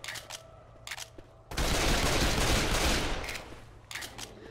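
Automatic gunfire in Left 4 Dead 2 erupts loud and dense in a sustained burst lasting a couple of seconds, preceded and followed by quieter in-game sounds and brief shots.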